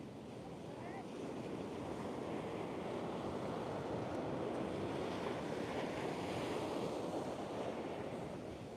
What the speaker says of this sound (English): The wind's almost too much. It's sand blasting.